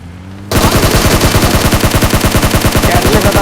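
Gunfire in the video game PUBG on the Erangel map: a sudden, loud, continuous automatic burst with a fast, even rhythm of shots, close and dominant throughout.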